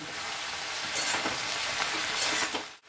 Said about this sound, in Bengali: আমি কড়াইয়ে লঙ্কা দিয়ে দিলাম তেলের ওপর, কালো জিরে দিয়ে দিলাম।